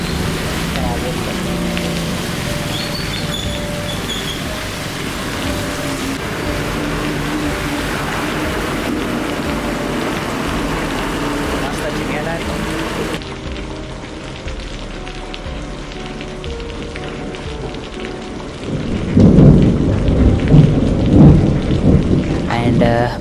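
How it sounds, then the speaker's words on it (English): Heavy monsoon rain pours steadily at a roadside fuel station, with rumbling thunder surging loudly near the end and faint traffic noise beneath; a voice talks over part of it. "some people are waiting for rain to stop, and some people are coming in the rain just to fill up the fuel"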